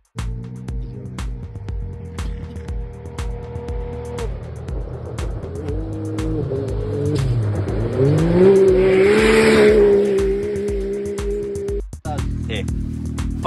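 A rally-type race car drives hard around a track, its engine droning loud and close, revving up and down with gear changes and a rising whine as it accelerates.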